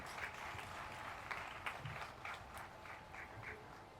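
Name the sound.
audience applause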